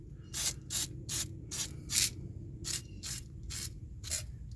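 Penetrant sprayed onto dirty engine parts of a 2005 Silverado, heard as nine short hissing aerosol bursts in a steady rhythm, close and fairly quiet over a low background hum.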